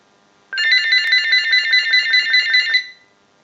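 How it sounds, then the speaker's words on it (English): A GE 27909 cordless telephone rings during a repair test after a line analyzer triggers it. One burst of rapid warbling electronic trills lasts a little over two seconds, loud and close, then stops to silence. "So we'll start a ring cycle with the analyzer."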